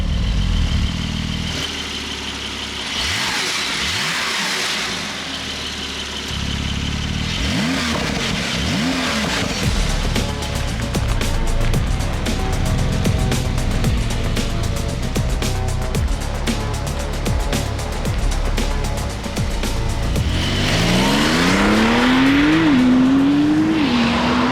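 A Porsche 992 911 Turbo S driving on the road, its engine loud and steady with rising and falling revs and gear changes throughout, heard close from inside the car, ending with a brief spoken remark.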